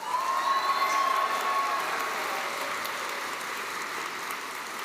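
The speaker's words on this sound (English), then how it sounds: "Let's give our higher education, business and construction graduates another big round of applause." Broad, steady applause from an audience at a Melbourne Polytechnic graduation ceremony for higher education, business and construction graduates, a dense wash of clapping that holds at an even level throughout with no talk over it.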